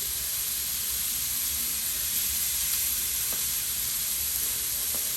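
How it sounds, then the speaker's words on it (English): Steak searing in a hot pan, the meat's sides pressed down to brown, gives a steady, close, even sizzle that hisses on unbroken with no talk over it. "I'm even going to cook the sides a little bit because I like them seared on all sides."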